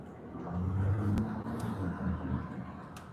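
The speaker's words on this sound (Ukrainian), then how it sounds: "Ну, все ж Audi a 6 Це є сила. Приємно їхати." A 2018 Audi A6 3.0 TDI diesel car driving, heard from inside as a steady low engine and road rumble with a mild rise in revs, close and continuous without speech.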